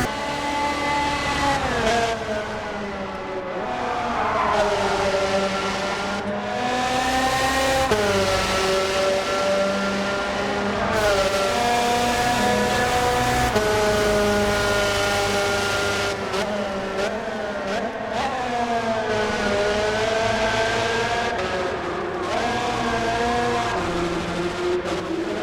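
A race car's engine in Gran Turismo 7 revs up and drops back as it shifts up and down through the gears, a loud, continuous on-board whine with rising and falling pitch.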